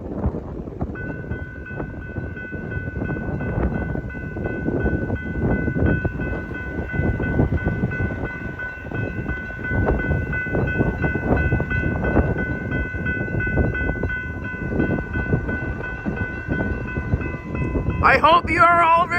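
The CP Holiday Train passes at Bryant Road during its 2024 run, a loud, steady rumble of rail cars under gusting wind noise, with sustained horn tones sounding throughout and brief voices near the end.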